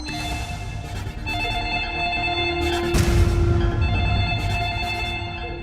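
A home telephone rings steadily with repeated bell-like tones throughout, fairly loud and continuous, with no talking.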